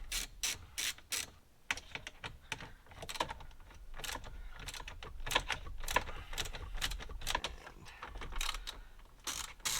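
A hand ratchet loosens bolts from the dash of a fifth-generation Toyota 4Runner, giving rapid bursts of close, sharp clicking in several runs with brief pauses between them, no talking.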